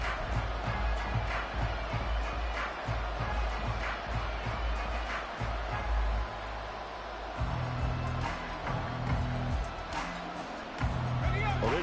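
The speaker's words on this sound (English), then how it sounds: "this crowd making it hard to hear" A loud football stadium crowd roars as a steady wash of noise beneath a commentator's continuous talk, with the din rising and falling through the play.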